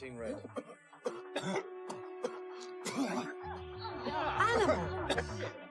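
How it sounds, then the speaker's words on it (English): A man in a film scene coughs and clears his throat over casino chips at a gaming table, a few short rough bursts at close range with some speech and background murmur around them. "This gentleman's accidentally coughed on the chips."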